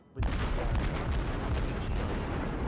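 Heavy naval cannon fire from the 203 mm guns of the cruiser Myoko in a naval warfare video game, a sustained booming barrage that stays loud and dense throughout with no talking.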